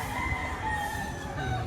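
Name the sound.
chickens and rooster crowing at poultry market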